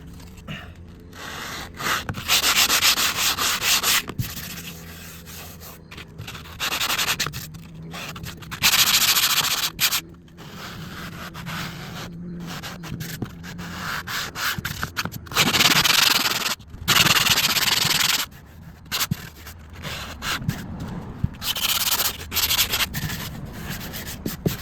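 Steady hand sanding of wood filler patches, a coarse rubbing and scraping in long bursts with short pauses between strokes, close up and fairly loud, no talking.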